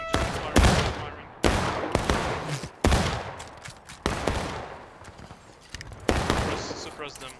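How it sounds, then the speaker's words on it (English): Video game gunfire in a team shooter match, with repeated bursts of rapid shots and sharp reports arriving in separate volleys every second or so, loud and close, with some voices under the shooting. "Let me just keep firing, just keep firing."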